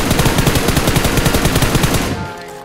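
Rapid automatic gunfire sprayed in a mobile shooter game, a loud, steady burst of evenly spaced shots lasting about two seconds before cutting off abruptly into quiet.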